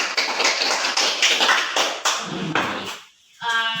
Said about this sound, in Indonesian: Berikan aplaus untuk Pascalia.